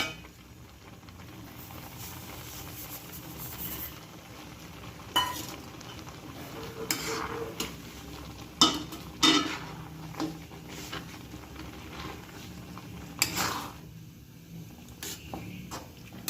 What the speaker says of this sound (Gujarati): આપણે આને દૂધ બળતા ધ્યાને સારી રીતે આમ હલાવવાનું